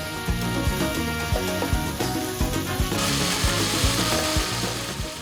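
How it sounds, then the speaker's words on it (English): Chicken with red curry paste stir-fries in a pot for Thai red curry udon soup, giving a loud, steady sizzle with repeated scraping and clattering stirring strokes. "Then stir fry and repeat. I much prefer stir frying the chicken first than adding liquids"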